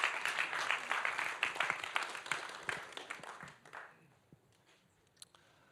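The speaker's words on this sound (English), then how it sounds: "can they come up and get their awards and we give them a round of applause?" Audience at an awards ceremony applauds prize winners, loud crowd clapping with a few sharper individual claps that thins out and fades to near silence, leaving only scattered faint sounds at the end.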